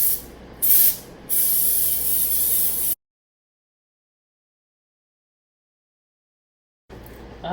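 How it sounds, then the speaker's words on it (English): Cooking spray hisses onto a Twinkie pan in loud, close bursts for about three seconds, then stops; a brief softer spray returns near the end. "and I'm just gonna spray mine up"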